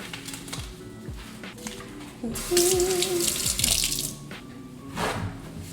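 Hot water rushes from a kitchen tap for a couple of seconds, a loud hiss that swells in the middle. Faint clatter and drips come before and after it, and nobody speaks.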